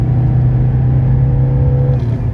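A 1982 Mercedes 300SD diesel engine pulls hard and steadily during a test drive, a loud, continuous low rumble with a strong droning tone, heard from inside the car with no talking.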